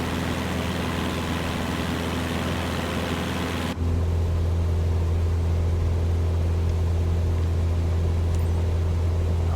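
Airplane engine in the Microsoft Flight Simulator 2024 video game, a loud, steady drone that abruptly shifts partway through to a deeper, heavier hum, as if the view moves outside the aircraft. No talking.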